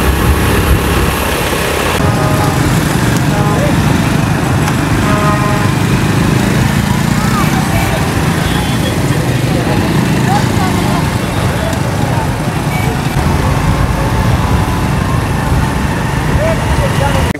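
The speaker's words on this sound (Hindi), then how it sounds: "असद भाई बाइक निकाल रहे हैं" A motorcycle engine runs steadily at close range as the bike is taken out, a continuous droning rumble with people talking over it.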